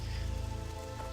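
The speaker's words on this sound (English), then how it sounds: "Wow, raining in Westfall." Rain falling in Westfall in the video game World of Warcraft Classic, a steady soft hiss of rain on the ground over faint ambient game music, no talk.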